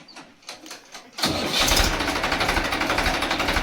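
A diesel tractor engine on a farm cranks with a few rhythmic starter turns, then catches abruptly and settles into a loud, close, throbbing idle.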